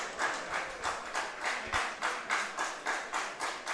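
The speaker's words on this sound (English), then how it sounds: "Fans trying to clap along here." Baseball fans at an IBL playoff game, Hamilton Cardinals at London Majors, clap along in a steady, even rhythm of about three claps per second, a crisp unison beat over a faint crowd murmur.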